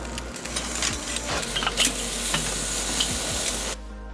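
Steak searing over very hot charcoal in a chimney, a loud continuous sizzle with spitting crackles that cuts off abruptly near the end.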